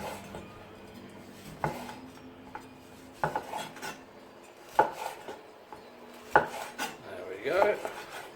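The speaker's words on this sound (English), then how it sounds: "we're going to cut up our sausages now" Cooked sausages are cut into bite-sized pieces with a knife on a plate or board, giving scattered sharp clicks and scrapes of metal against the surface at an irregular pace. They sound close and fairly quiet, with no talking.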